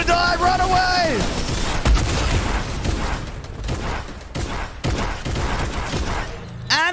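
Video game gunfire crackles in rapid volleys over several seconds, loud and close, with excited voices shouting over the shooting.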